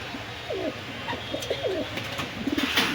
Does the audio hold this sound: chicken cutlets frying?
no